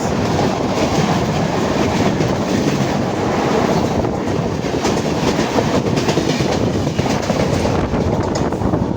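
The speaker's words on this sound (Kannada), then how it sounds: "longest running train Dibrugarh Kanyakumari Vivek express" Loud, continuous rumble of the Dibrugarh–Kanyakumari Vivek Express passenger train rushing past close by, with rattling wagons and wind buffeting throughout.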